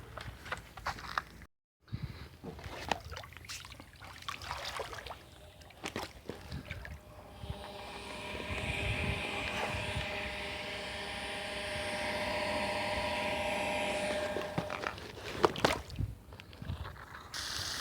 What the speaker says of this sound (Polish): No dobra, to pompa pompuje tak jak trzeba